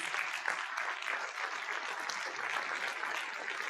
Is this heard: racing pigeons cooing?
no